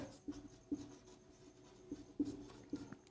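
Pen or chalk strokes on a board during a Class 10 maths lesson on heights and distances, a series of short scratchy strokes in an irregular rhythm, close and fairly quiet with no talking.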